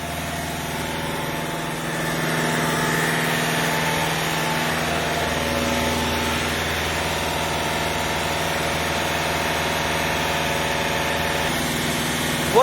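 A car engine runs steadily during an engine decontamination treatment, a constant mid-pitched drone that rises slightly after the first two seconds and then holds even to the end.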